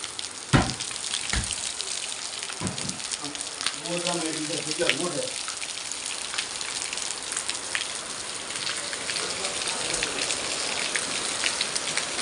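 Heavy rain pours down steadily in a village, a dense, continuous hiss of drops on surfaces throughout, with a brief voice audible early on.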